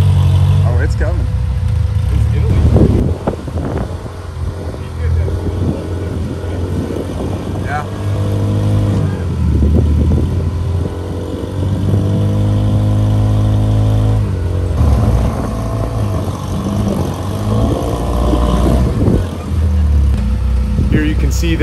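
A mid-engine rear-steer rock crawler revs and strains up granite rock walls at Wolf Caves, its engine surging and falling in repeated loud bursts, close by, with occasional voices in the background.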